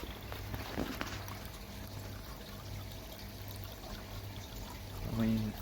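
Water trickling fast through the filter of a 12,000 litre pond, a steady soft rush and dribble at a moderate distance, fairly faint and continuous with a slight swell near the end.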